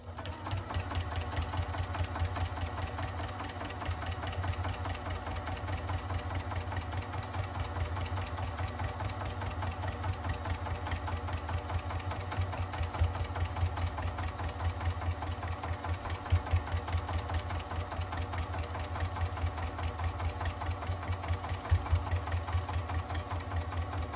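A sewing machine runs steadily, stitching a line of quilting through batting on a mini quilt, its needle producing a fast even mechanical hum and patter that continues without a break.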